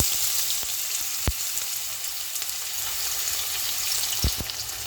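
Chopped onions fry in oil in a pot with a soft, steady sizzle, broken by a couple of sharp knocks and scrapes of a stirring spoon.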